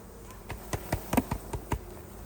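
Honey bees buzz around an apiary hive in late summer, a close insect drone broken by several sharp clicks or taps spaced through the moment, with no voices.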